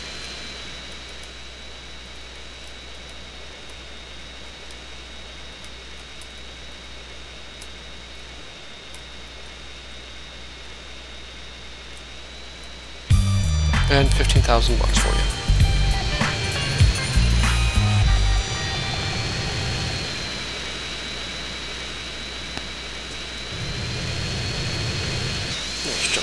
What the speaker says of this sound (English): As long as you land the plane on here, you're good.